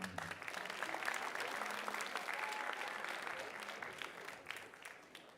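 Audience applause fills a school writers' week event, steady sustained clapping from a crowd lasting several seconds, fairly faint and distant, with no talk over it.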